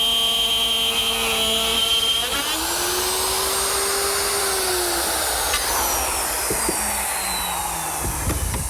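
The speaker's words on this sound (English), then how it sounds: "I'm going to use my router, which has a collar and a 1/2-inch bit" A router with a collar and half-inch bit cuts plywood with a loud, continuous high whine and rushing roar that rises in pitch as the motor spins up, steady throughout.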